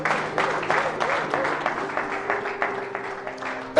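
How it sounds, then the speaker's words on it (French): Audience at a church gathering clapping loudly in a steady burst of applause for a few seconds, close and energetic, with voices mixed in. "On acclame très très fort."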